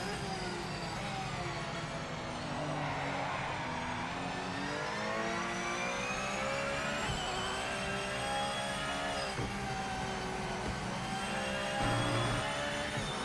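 A racing car engine in the video game Project Motor Racing roars steadily with rising and falling revs, gear-shift pitch sweeps, continuous and fairly loud throughout.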